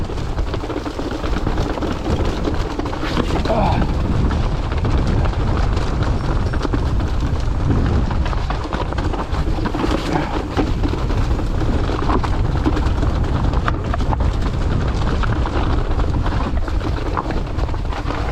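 Heavy wind buffeting the microphone while mountain biking a descent in the Peak District, a loud low rumbling roar that persists for the whole stretch with gusty surges.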